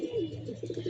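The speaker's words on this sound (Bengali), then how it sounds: "আমি আমার কবুতর উড়াই" Domestic pigeons kept by a pigeon flier, cooing in several soft, rolling calls close by, with a steady low hum underneath throughout.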